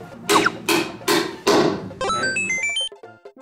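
A toy hammer smashes four times in a game round, each hit a sharp whack in an even rhythm, followed by a short burst of bright electronic chiming tones.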